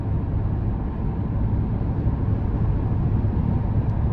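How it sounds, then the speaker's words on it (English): Low steady road and tire rumble inside a 2025 Chevy Tahoe LS on 22-inch wheels while driving, a constant muted drone with no speech. "even with the 22s, I can hear the tires"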